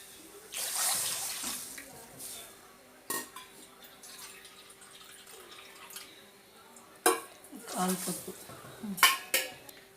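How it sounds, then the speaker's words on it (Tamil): About a quarter cup of water splashes and pours into a pan amid clinking pots and utensils, with soft kitchen clatter and a few sharp knocks. "கப்பு தண்ணி ஊற்றிக்கலாம்"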